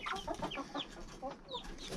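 Backyard chickens clucking softly and close by in a quick series of short, irregular calls for about two seconds, quiet and with no talk over them.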